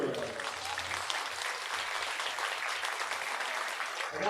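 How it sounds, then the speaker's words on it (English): Fans at a baseball game between the Australian Select Colts and the Western Nebraska Pioneers applaud across the stands, a wash of many hands that sounds fairly distant and stays even, with a low hum underneath. "a warm round of applause for Dr. Ramirez."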